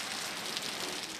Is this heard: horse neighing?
no